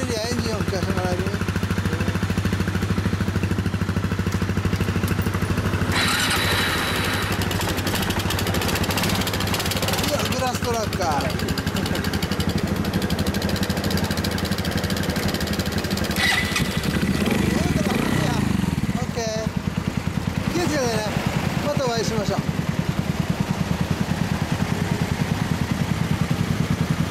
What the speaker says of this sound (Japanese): アプリリアエンジン音聞かせてもらえる？